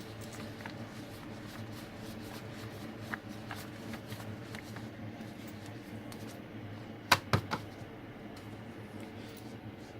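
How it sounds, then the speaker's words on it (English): Sheets of paper being fanned by hand before loading into a paper folding machine, a soft continuous riffling flutter with a few sharper snaps near the end, close by, no talking. "So we'll fan the paper."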